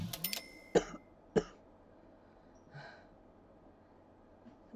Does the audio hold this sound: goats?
no